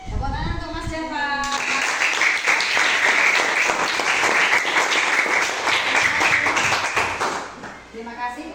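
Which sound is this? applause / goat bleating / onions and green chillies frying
applause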